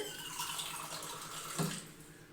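Water is poured into a blender in a steady, soft splashing stream, fairly quiet, with a small clink partway through.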